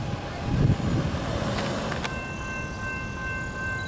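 Freight trains roll past at Chesterton, Indiana, a steady rumbling roar with wheel noise and a faint high metallic squeal or ring toward the end, heard from trackside.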